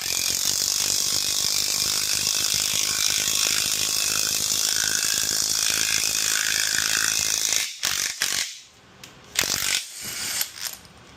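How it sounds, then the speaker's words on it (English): Ratchet wrench tightening timing cover bolts on an LS engine, a fast continuous clicking that runs steadily and close, then breaks into a few short bursts of clicks with pauses. "And now you can torque your bolt."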